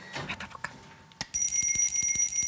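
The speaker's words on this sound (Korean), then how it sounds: "경기 종소리와 함께 시작하도록 하겠습니다" A bright electronic bell rings out to start a claw machine competition match, a sustained ringing tone with a rapid pulsing clatter that follows sharp clicks and short electronic beeps.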